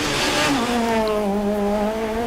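A Super 1600 rally car at the Rali Vinho Madeira 2014 passes with a loud, strained engine note that drops in pitch as it goes by, close and alone.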